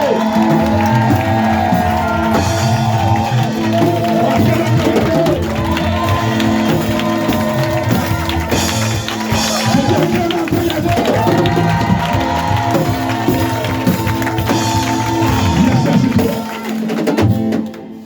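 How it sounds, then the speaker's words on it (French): Worshippers at a French-language evangelical church service cheer and shout acclamations as a loud, continuous crowd roar, with whoops and raised voices over steady tonal backing that holds for the full length before dropping off at the end. "Est-ce que tu peux acclamer Yahvé?"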